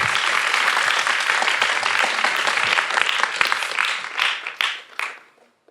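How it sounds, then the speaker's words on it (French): Enthusiastic studio audience applause for a performer on an outdoor music show set, loud continuous clapping that tapers off into a few scattered claps before silence. "on l'applaudit très fort"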